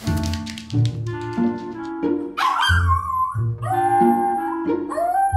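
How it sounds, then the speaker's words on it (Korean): An anxious dog shut indoors alone cries and barks without pause, a close, loud string of sharp yelps and rising whining cries that keeps going. "멈추지 않는 울음소리"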